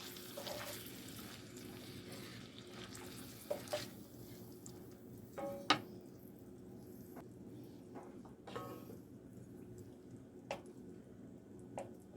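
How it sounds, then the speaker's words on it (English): Sausage frying in melted butter in a pan gives a quiet, steady sizzle. Occasional soft clicks and drips sound over it, and no one speaks. "When I get this butter fairly melted into this pan with this sausage"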